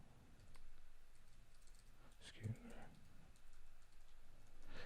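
A password typed on a computer keyboard, soft irregular key clicks scattered at low level with a slightly louder cluster of taps partway through, quiet and close, no talking.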